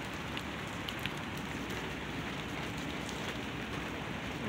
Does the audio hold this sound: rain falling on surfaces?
yes